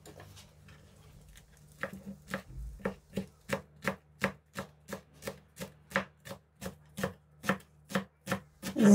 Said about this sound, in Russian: Мелко нарезаем зеленый лук.